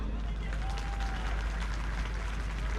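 An audience at an international mushaira in a large expo hall applauds, a dense, steady wash of clapping from many hands across the whole stretch, with crowd murmur mixed in.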